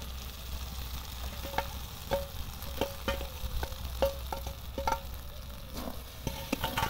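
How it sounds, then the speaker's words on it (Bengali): Fried okra being stir-fried with oil and spice masala in a pan makes a soft, low sizzle broken by regular spatula scrapes and taps against the pan. "এবার ঢেঁড়সগুলোকে ভালো করে মশলার সঙ্গে আর আমি 1 মিনিট মতো সময় নিয়ে একটু কষিয়ে নেব"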